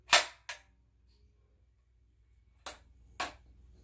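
A replica M3 grease gun has its bolt charged: a sharp metallic clack with a quick follow-up click, a pause of about two seconds, then two more close, crisp mechanical snaps.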